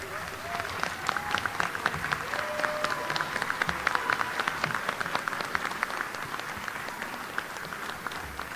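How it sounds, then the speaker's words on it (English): Standing graduates applaud staff members at a high school graduation ceremony, a sustained crowd clapping with crisp individual claps audible, while a faint voice or music runs underneath at moderate distance. "we would like for you to stand and give them a round of applause"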